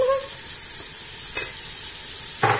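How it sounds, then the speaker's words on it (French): Soaked white beans with parsley and coriander stirred into a sizzling sauce, with a loud continuous frying hiss and a couple of brief utensil scrapes, close up with no speech. "Je vais essayer de mélanger aussi pour que mes haricots blancs prennent aussi les couleurs."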